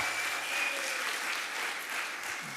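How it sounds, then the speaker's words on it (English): A congregation at a Friday evening Shabbat service claps in a steady, moderate wash of applause heard from a slight distance, without talk. "Give them a big round of applause"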